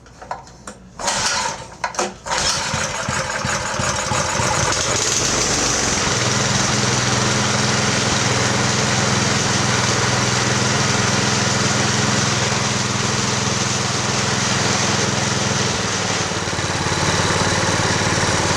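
A mid-1970s tiller engine catches after a few sputtering pops, then settles into a steady, loud idle close by, droning evenly with a slight shift in tone near the end.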